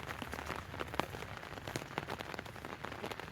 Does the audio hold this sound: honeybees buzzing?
no